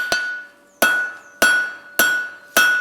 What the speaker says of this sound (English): and forge out these tapers.